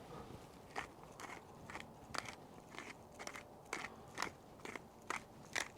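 A pepper grinder cracks black pepper into a steak marinade in a steady run of about a dozen faint, crunchy twists, close and quiet with no talking.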